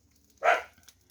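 Dogs let out a single short bark, moderately close, in an outdoor garden setting where wild birds are feeding, with quiet surroundings before and after.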